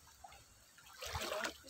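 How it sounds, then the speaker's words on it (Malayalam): Feet wade into shallow, slippery water, with a few faint trickles followed by a louder sloshing splash close by, brief and quiet overall. "വെള്ളത്തിൽ ഇറങ്ങുന്നുണ്ട്. ചെറിയ വഴുക്കലൊക്കെ ഉണ്ട്."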